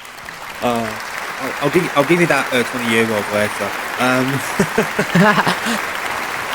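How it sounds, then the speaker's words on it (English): A round of applause during an interview, with clapping spread underneath someone talking loudly over it throughout. "Let's give a round of applause to me."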